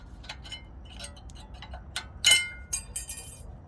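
Small metal brake pad hardware clips on the rear brake of a Honda Accord give sharp light clinks and ticks, close by and fairly quiet, with a few louder metallic clicks near the end.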